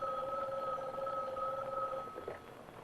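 An office telephone in a 1960 film rings with a steady two-tone electric buzz at moderate, fairly faint volume that holds evenly, then wavers and fades near the end.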